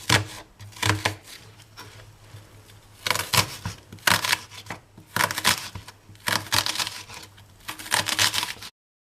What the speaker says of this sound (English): I'm going to go ahead now to slice the onion that I'm using.